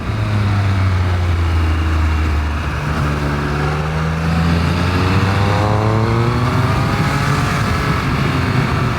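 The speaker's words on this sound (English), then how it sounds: "That engine note, even with this stock exhaust, is beautiful." Triumph Speed Triple 1200 RS motorcycle engine on its stock exhaust, a loud, close, continuous roar with rising and falling pitch as it revs and accelerates, heard alone without talk.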